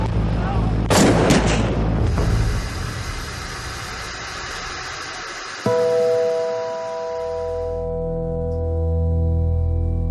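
Gunfire during the Jonestown attack at an airstrip: a cluster of sharp, loud shots in quick succession near the start, followed by a steady engine drone and a lingering tonal hum through the rest.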